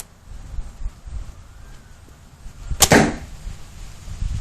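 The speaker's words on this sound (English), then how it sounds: "Heard that one hit the cardboard." A single sharp thwack as an arrow shot from a homemade half-inch PVC youth recurve bow strikes a cardboard target, loud and close against a quiet outdoor background.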